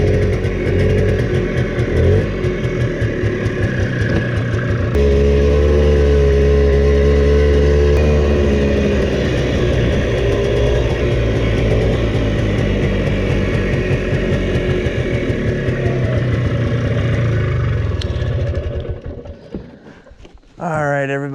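A four-wheeler ATV engine drives along at a hunting camp, giving a loud, continuous rumbling drone that rises and settles as the throttle changes, then winds down near the end.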